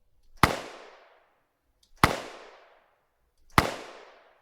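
Three isolated gunshot sound effects, played uncompressed, each a sharp loud crack followed by a fading tail, spaced about one and a half seconds apart in silence.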